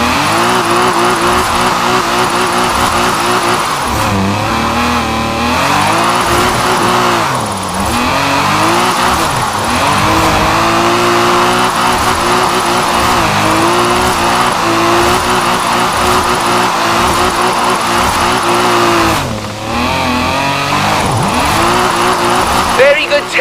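In Forza Horizon 4, a car drifts with a loud sustained engine roar that rises and falls with revs, tires squealing through slides, and someone talking over it.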